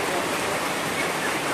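Rain falls steadily at an outdoor debut party with cooking under way, an even close wash of pattering noise that runs unbroken from start to end.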